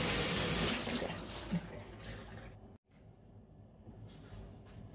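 Cold water running from a kitchen tap while bouncy pork balls are being made: a close, steady rushing stream that stops abruptly near three seconds, followed by quieter trickling and splashing.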